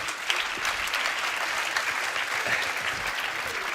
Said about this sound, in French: Amen, on peut applaudir.